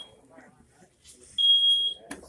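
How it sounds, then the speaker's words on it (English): A smoke alarm in a kitchen lets out a loud, shrill electronic beep for about half a second, alone after quieter background talk and clatter. A sharp noise follows at the end. "Well, fire alarm."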